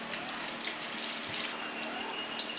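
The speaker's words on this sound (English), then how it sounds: "we will reverse flush the radiator" Water is reverse-flushed through the radiator of a Triumph Tiger motorcycle during a service, making a steady, continuous rushing hiss at close range with no pauses.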